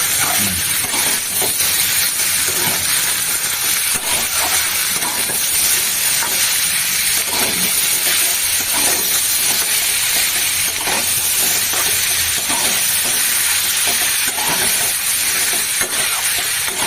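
Spices and a torn bay leaf frying in a pan give off a continuous loud sizzle and hiss, steady throughout with faint stirring scrapes underneath.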